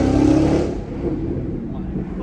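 Dodge Hellcat Redeye engine droning loudly from inside the car with the windows down, a steady low rumble that swells early then settles into a constant roar while the car runs on the street.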